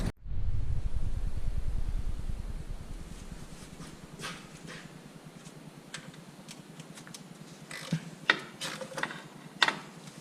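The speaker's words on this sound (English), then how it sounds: "I'm just using a 10mm socket on an extension." A socket wrench turns a 10mm swivel socket on an extension to remove starter bolts above the aluminum subframe of a Chevy Impala, Malibu or Monte Carlo, giving a steady low mechanical rumble and then scattered sharp ratcheting clicks and metallic taps close by.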